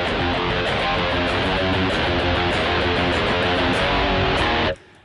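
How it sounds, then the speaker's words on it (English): A dry, distorted electric guitar through a Rocktron Utopia G300 amp sound with no effects plays loud chugging rhythmic chords, then cuts off abruptly near the end. "If you call up an amp sound, you know, maybe a dry sound like this"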